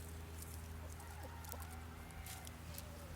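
Young chickens and established hens in a flock cluck softly, with a few scattered calls over a quiet outdoor background.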